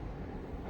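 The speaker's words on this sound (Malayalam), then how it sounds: "ഭാരതപ്പുഴയുടെ മുകളിലേക്ക് കയറിയിരിക്കുകയാണ് ട്രെയിൻ." Ernakulam–Kannur Intercity train rolling onto the bridge over the Bharathapuzha river, a steady, close, low rumble of wheels and carriages with no clear rhythm over the short stretch.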